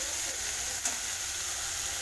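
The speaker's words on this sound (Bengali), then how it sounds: "বেশিক্ষণ লাগবে না ভাজতে।" Food frying in a pan makes a steady, even sizzle and hiss with one small pop, close and moderately loud, with no talking.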